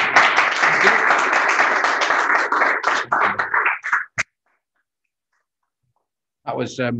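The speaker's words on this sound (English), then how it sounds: "Can we have a round of applause for Andy, please?" Dense, loud audience applause at a live business chamber event fills the first four seconds and cuts off abruptly. Silence follows, then a voice begins speaking near the end.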